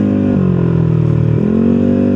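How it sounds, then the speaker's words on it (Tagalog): A motorcycle engine and exhaust pipe drone steadily and loudly nearby, the pitch dipping briefly mid-clip before rising again, with no talking over it. "yung inaalala ko lang talaga dito is yung ingay ng motor or yung pipe nito."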